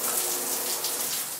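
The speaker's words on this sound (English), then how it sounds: "turn on the shower." A shower runs in a rural horse-property house, a steady hiss of spraying water heard alone, fairly quiet and continuous.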